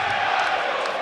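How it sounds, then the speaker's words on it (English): York City football supporters roar in full voice at a stadium, a dense, sustained wash of crowd noise with no breaks, carrying steadily at a distance. "York still in possession, their crowd in full voice"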